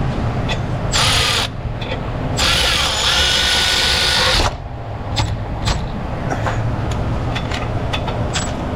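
Tekton ratchet tightening transmission torque converter bolts on a Chevy Tahoe, heard as loud bursts of fast mechanical whirring and spinning, with sharp clicks and knocks between them, close and steady with no speech.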